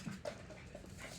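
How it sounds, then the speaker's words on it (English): A dog snuffles and pants close by, in short breathy bursts with a small whine near the start, faint and alone in a quiet room. "Look, my dog thought I was calling him."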